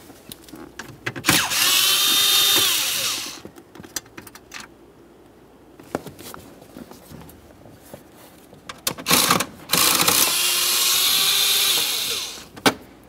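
A power tool backs out 7mm-headed bolts under the steering column of a 2001-2005 Ford Explorer Sport Trac, two close, loud whirring runs of about two seconds each, separated by quiet clicks and handling noises.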